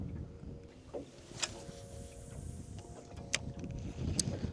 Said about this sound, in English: This wind is complicating things.